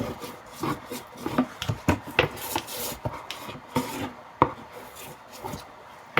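Cardstock being burnished down into the bottom of a handmade Valentine box, a series of soft rubbing and scraping strokes with occasional sharper taps, close and fairly quiet, with no talking.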